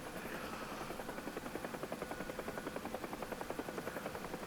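A UH-1H Huey helicopter in the DCS flight simulator thumps with a fast, even rotor beat over a constant turbine whine, close and loud throughout, with no voices.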